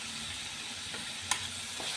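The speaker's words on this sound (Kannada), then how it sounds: "ಚೆನ್ನಾಗಿ ಮಿಕ್ಸ್ ಮಾಡಿ." A spoon stirs a spiced masala of chilli powder, coriander powder, turmeric, cumin and soaked cashews in a pan, giving a steady soft sizzle with a light scrape near the end.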